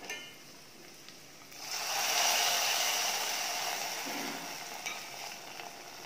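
Hot tempering poured into semolina porridge (tari kanji) sets off a loud sizzle that surges about a second and a half in, then settles into a softer, steady crackle and hiss.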